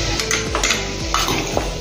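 Salt being stirred into potatoes in a pan, with a spoon scraping and clinking against the metal in a steady, close rhythm of several strokes, with no talking.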